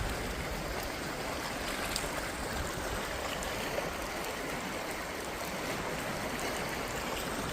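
Continuous rushing of flooded creek water flowing where the creek widens, a steady broadband wash at moderate distance with no talking.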